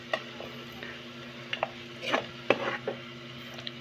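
Pork adobo, browning toward golden in a pan, stirred with a few sharp spatula scrapes and knocks over a faint low sizzle, close up and sparse, without talk.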